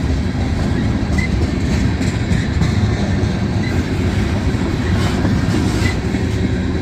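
A long CSX freight of box cars rolls past at roughly 20 to 25 miles an hour in Ijamsville, Maryland, giving a loud, steady rumble with rhythmic wheel clatter over the rails, close by and continuous.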